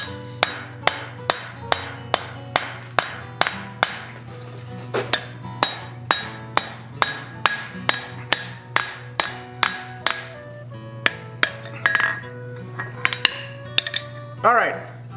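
Hammer blows on hot steel being forged into a vulture head for a chess set, a steady series of sharp ringing metallic strikes, about two per second, close and loud over a low droning hum.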